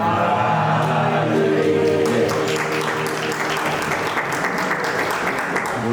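An audience at a religious Patotsav festival breaks into a burst of loud, dense clapping that gradually thins and softens over a few seconds.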